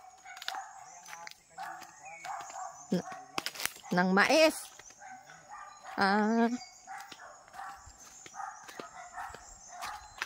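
Several dogs bark in short bursts, close by and fairly loud, while people talk over and between the barks, in a forest in the Philippine provinces.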